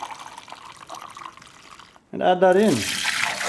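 Hot, not boiling, water gushing and splashing into a store-bought home brew beer kit, a loud close pour that starts abruptly after a man's brief remark.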